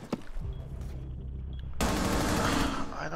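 Rapid automatic gunfire punching through a wall in Rainbow Six Siege, a sudden loud sustained burst after a quieter moment with a few sharp earlier cracks, close to the listener.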